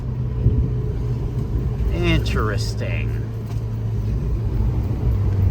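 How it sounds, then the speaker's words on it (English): A Ferrari with a rubbing tire and no working second gear drives along, its engine a steady close rumble with a rising, shifting whine partway through under constant road noise. "let's go start driving, and I'm gonna shift it"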